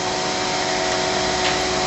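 A vacuum pump draws down a vacuum infusion bag over carbon fabric for a composite part, giving a steady, loud, broadband hiss and hum that runs unbroken and alone.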